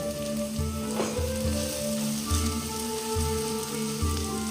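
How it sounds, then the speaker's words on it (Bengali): Egg stirred into vegetables in a pan while cooking a homemade Maggi soup, giving a steady hiss of sizzling over a low hum with soft periodic thumps, close and continuous, no talking. "এবার দেখুন ডিমটাকে এই সবজির সাথে মিশিয়ে দেবো।"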